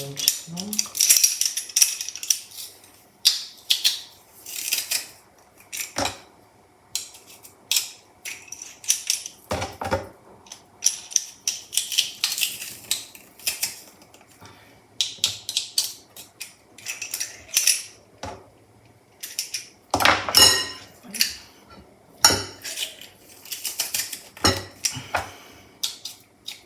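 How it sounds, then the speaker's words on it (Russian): Spoon and bowl scrape and clatter as boiled chicken and meat are stirred together with garlic for homemade aspic; irregular clinking and scraping bursts with short pauses, close by. "Вот это все перемешиваем. Мясо с чесноком."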